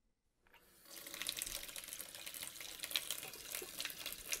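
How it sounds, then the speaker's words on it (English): A kitchen sink tap runs after a brief silent start, a steady close splashing rush of water that holds on alone without pause. "that kitchen sink is leaking bad"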